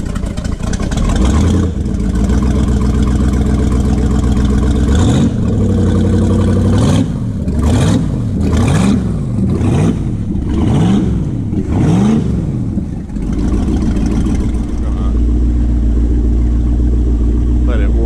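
The engine of a 1983 Checkmate Eluder boat runs near and loud with a low rumble, the idle being nudged up in a series of short rising and falling rev swells before it settles back to a steady drone.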